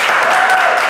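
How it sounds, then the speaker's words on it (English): A brief burst of warm-up applause from a startup show's studio audience, a short, loud patter of clapping heard alone. "Can we get a little warm-up round of applause?"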